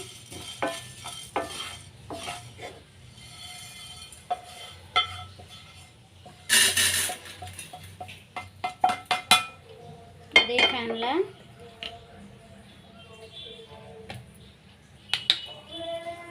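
Roasted ingredients for a chayote buttermilk curry are scraped and moved from a pan onto another plate, with irregular metallic clinks, spoon scrapes and clatters of cookware, close by, between quieter pauses.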